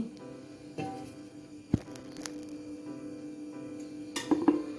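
Metal puttu steamer vessels clink and knock softly, with a sharp clank near the start and a rattle toward the end, quiet and close.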